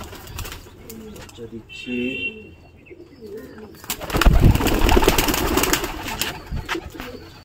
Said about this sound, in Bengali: এবার কিছু পায়রা আছে সেখানে ওড়াচ্ছি